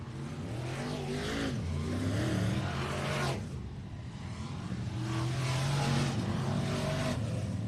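Modified race cars at a dirt track race meeting at Texana Raceway Park roar loudly and continuously, engines revving and surging as they roll past, with two strong swells of sound separated by a brief dip.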